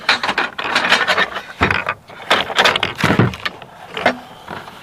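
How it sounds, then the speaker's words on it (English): An AK pump being unscrewed from its pump head, giving repeated close ratcheting, clicking and grinding mechanical sounds in irregular bursts. "then just unscrew the pump from the pump head"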